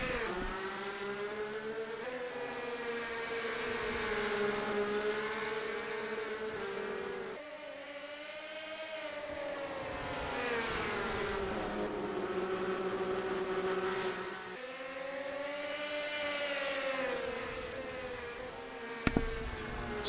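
Race cars in a video game race at Toledo drone past in repeated rising and falling engine whines, loud and continuous with no commentary heard.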